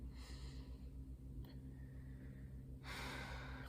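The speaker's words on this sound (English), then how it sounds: "just take a second to really take a couple of deep breaths" Slow, deliberate deep breaths taken during a calm guided meditation, a soft inhale early on and a louder, airy exhale near the end over a low steady hum.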